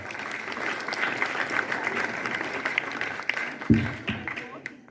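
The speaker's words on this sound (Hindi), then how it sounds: "एक बार जोरदार तालियों से स्वागत कीजिए" Audience applause at a school Hindi Diwas celebration, a steady wash of many hands clapping at a distance for several seconds, with a brief louder thump near the end.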